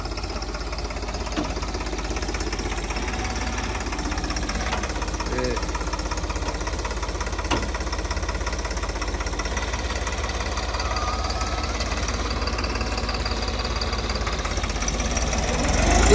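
A New Holland 3630 four-wheel-drive tractor works in a field, its diesel engine giving a steady, close, knocking drone that holds constant throughout, with a voice talking over it at times.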